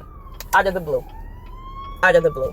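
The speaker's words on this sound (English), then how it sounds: "I'm sure you guys hear all this ambulance" An ambulance siren passes outside, a steady wailing tone that slowly drops in pitch while a person speaks over it in two short bursts.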